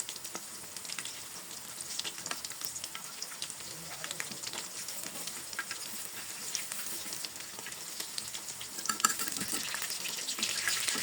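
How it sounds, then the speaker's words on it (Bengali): Brinjal slices frying in a pan give a soft, continuous sizzle and crackle with scattered pops and light stirring scrapes, fairly faint and steady throughout, with no talking. "এখানে বেগুন ভেজে নিতেছি।"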